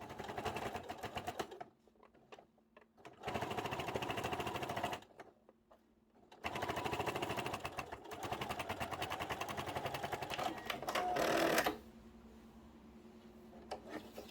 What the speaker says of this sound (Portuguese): Vou deixar a parada de agulha dentro do tecido. E venho costurando.